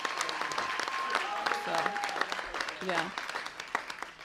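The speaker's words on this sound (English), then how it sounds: "So let's give them a round of applause." A banquet crowd at a winter/spring sports awards night claps in a sustained round of applause while a voice talks and calls out over the steady patter.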